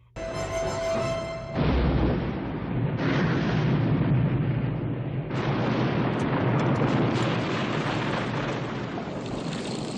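A grenade explosion effect from the film Jaws 3D, a sustained loud roaring blast with rumbling, noisy debris that swells in waves and continues for several seconds, heard alone.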